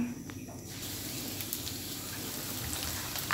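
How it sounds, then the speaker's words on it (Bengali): Potato crackers made from potato and flour drop into hot oil in a pan: a steady, close hiss and sizzle of frying that continues evenly throughout, with no talking. "তেলটা গরম হয়ে গিয়েছে এখন আমি এতে পটেটো ক্র্যাকার্সগুলো দিয়ে দিলাম"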